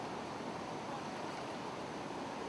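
Rushing water at Gurara waterfall makes a steady, broadband roar, an even wash of noise with no breaks, heard at moderate to faint level with no voices.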